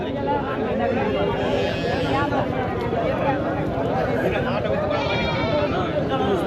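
Goats bleat at a busy goat market, their calls rising repeatedly through dense, continuous crowd chatter and voices.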